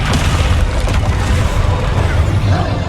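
Descendo spell impact in Hogwarts Legacy amid rapid spell combat, dense booming rumbles and crashes running continuously and loud throughout.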